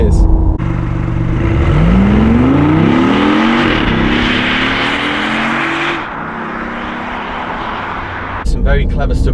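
BMW i8 hybrid sports coupe accelerating hard from inside the cabin, a loud rising engine note climbing steadily through the gears with electric-motor torque, sustained for several seconds before easing to a steady cruise, with speech in the background.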